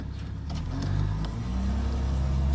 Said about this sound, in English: Don't mind the car going by.